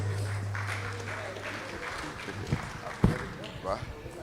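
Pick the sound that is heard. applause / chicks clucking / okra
applause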